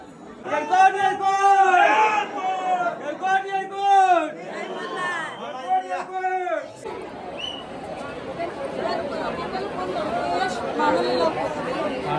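A crowd of devotees chatters at the Jejuri Khandoba temple. Nearby voices talk clearly at first, then blend into a dense, continuous babble of many people.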